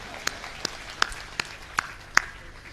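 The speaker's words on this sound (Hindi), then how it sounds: "इस बात के लिए पूरा सदन एक बार जोरदार तालियां बजाए" Audience clapping at a Hindi comic poetry gathering arrives as six sharp, separate claps spaced roughly evenly over a low room murmur.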